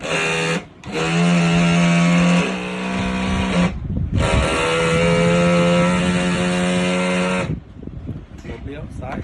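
A rescue boat engine runs during a test, revving loud and high and holding steady, cutting out twice for short gaps before it stops near the end.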